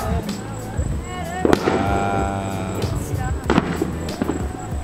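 Fireworks going off outdoors near a home garage, a few sharp pops and crackling bursts spread across the moment, with people talking over them.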